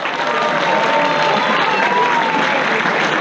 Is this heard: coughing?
no